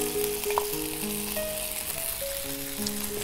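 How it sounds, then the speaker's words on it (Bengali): Prawns fry in an oiled pan with a steady, close sizzle that lasts throughout, while a sustained musical tone sits underneath. "প্রথমে চিংড়িটা আমরা একটু ভেজে নিব।"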